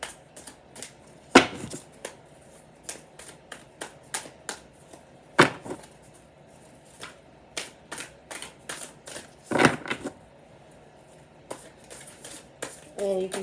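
Tarot cards shuffled by hand in an overhand style until some drop out, a steady series of soft papery taps and flicks with a few louder slaps, close and quiet, with occasional low talk.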